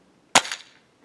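A single sharp shot from a custom airsoft blunderbuss firing a spread of BBs, a loud close crack with a short hissing tail, after a quiet lead-in.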